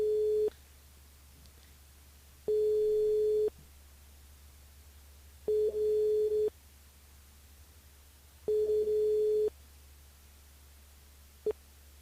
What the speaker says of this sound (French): On appelle Annabelle du côté de Saint-André, c'est parti.